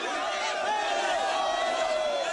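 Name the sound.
excited crowd of protesters in Abidjan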